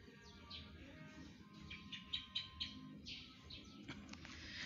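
Several birds chirp and tweet in trees outdoors in a quiet setting, with short bright calls repeating at a moderate distance over a low background hum, and no traffic.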